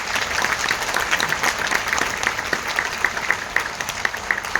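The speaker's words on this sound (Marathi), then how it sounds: "मान्यवरांसाठी आपण जोरदार टाळ्यांचा एकदा आवाज करायचा आहे." A large audience at a democracy and republic conference in Pune breaks into loud, sustained applause, dense clapping filling the room steadily from start to finish.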